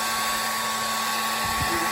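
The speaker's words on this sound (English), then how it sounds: "we're just going to take the blow dryer" A hand-held blow dryer runs continuously at close range, drying a damp coffee filter for a paper craft. Its loud, steady rushing whir fills the whole stretch without speech.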